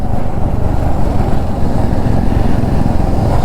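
A Royal Enfield motorcycle on a group Sunday ride in Delhi-NCR thumps along with a steady, close exhaust rumble, a continuous low throb mixed with wind buffeting on the microphone.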